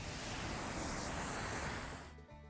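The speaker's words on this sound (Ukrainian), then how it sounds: "Ще на початку маршруту ми бачимо Павлів гірський потік з чистою прохолодною водою." Clear, cool mountain stream in the Carpathians flowing over its rocky bed, a steady close broadband rush of water that cuts off abruptly near the end.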